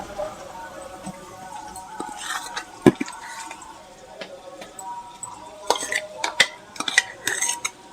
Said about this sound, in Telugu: వేసి ఒకసారి కలుపుదాము.